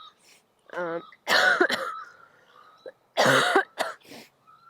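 Several harsh coughs in two bursts, loud and close, with a throat-clearing rasp between them and a voiced cough at the start.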